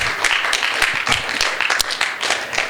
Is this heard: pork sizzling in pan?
no